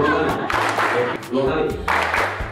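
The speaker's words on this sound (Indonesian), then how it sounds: "Tepuk tangan dua kali." At a corporate gathering, a group claps twice in quick succession during a chanted, sung activity, with voices continuing around the claps.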